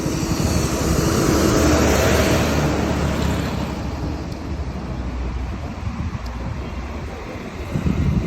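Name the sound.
Bajaj CT 100 motorcycle riding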